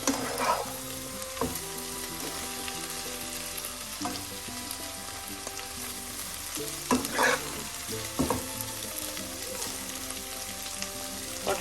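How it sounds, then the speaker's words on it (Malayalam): Potato and okra stir fry being mixed in a pan, a low steady sizzle with a spoon scraping and tapping the pan now and then, close and moderately loud. "ഇതെല്ലാം കൂടെ ഒന്ന് മിക്സ് ചെയ്യാം."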